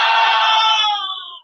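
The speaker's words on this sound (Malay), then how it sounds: "Dia menjerit." A woman screams, a single loud, sustained shriek held at a high pitch before it wavers and trails off at the end, heard alone with no other sounds around it.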